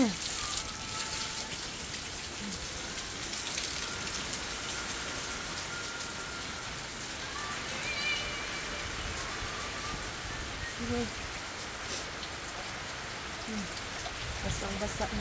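Heavy typhoon rain pours steadily onto a hut, a dense continuous hiss of drops drumming on the roof and surfaces, close and unbroken throughout.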